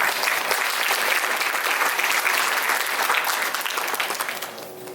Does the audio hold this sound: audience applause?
yes